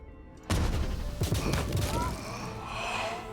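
A magic missile spell cast in Pathfinder: Wrath of the Righteous bursts in suddenly as a loud rush of crackling, booming impacts, then settles into a lingering shimmering whoosh with a voice murmuring underneath.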